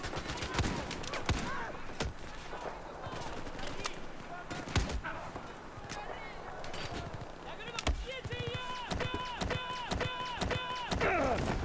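Rapid bursts of gunfire and explosions in the video game Battlefield 4, dense and loud, with automatic-weapon chatter and sharp shots crowding the whole stretch while a voice talks in between.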